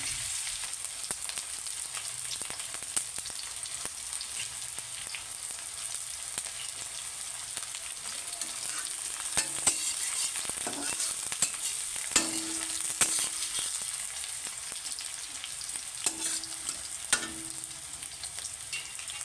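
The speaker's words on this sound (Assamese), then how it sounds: "এয়া মোৰ তেল গৰম হৈ গৈছে। এতিয়া মই পিঁয়াজখিনি দি দিছোঁ।" Sliced onions fry in hot oil in a pan, a steady crackling sizzle throughout with occasional spatula taps and scrapes against the pan.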